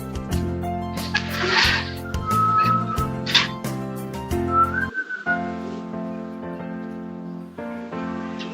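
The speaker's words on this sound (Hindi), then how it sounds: "सीटी ऐसे मत मारिए।" Someone whistles a melodic tune into the microphone during an online Hindi poetry reading event, loud and close, with sustained notes running throughout and no talk over it.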